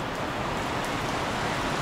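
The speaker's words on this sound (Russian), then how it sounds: "Дождишко пошел, да?" Soft, steady hiss of light, warm tropical rain falling in Kampot, Cambodia, a continuous even wash of droplets with no voices.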